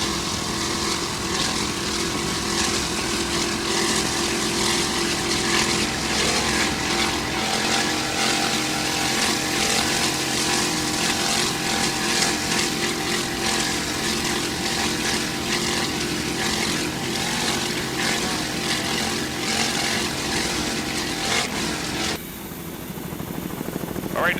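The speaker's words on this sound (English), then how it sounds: "it's powered by one 500 horsepower Mercury inboard" Offshore racing powerboats, including a 24-foot Corsa with a single 500 horsepower Mercury inboard, roar steadily at high speed during an offshore race. The dense engine drone holds for over twenty seconds before dropping slightly.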